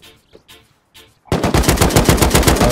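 Automatic gunfire in the survival game Rust bursts in as a loud, rapid continuous stream after a few softer thumps, sustained and close.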